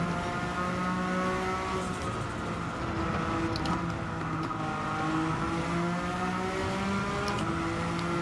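The Suzuki Escudo Pikes Peak race car engine in a racing video game, a loud, continuous high-revving drone with rising and falling gear tones throughout, close up and with no talk.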